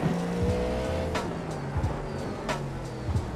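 Race car engine in a racing video game set at Long Beach, an AMG or Cadillac GTP car, droning steadily with shifting engine tones and brief squeals, close and loud with no talk.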